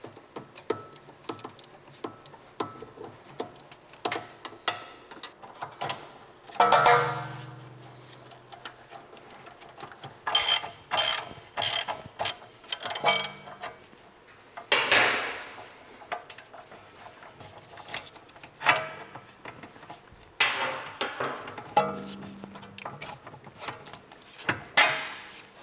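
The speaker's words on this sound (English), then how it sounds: "we'll go ahead and remove the bolts and then remove the control arm itself" A ratchet backs out bolts from the control arm of a 2021+ Tesla Model S, with bursts of rapid ratcheting clicks separated by pauses and some clunks of parts handled nearby.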